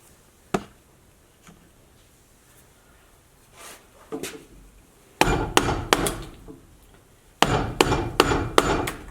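A mallet drives a large number 7 carving gouge into wood, first in a few sparse knocks, then in two rapid clusters of sharp, close strikes.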